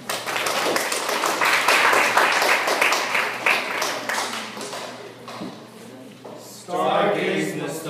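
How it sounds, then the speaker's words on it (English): Audience applause at a poetry slam, a dense burst of many hands clapping that gradually thins out and fades, followed by a performer beginning to speak. "Then a round of applause."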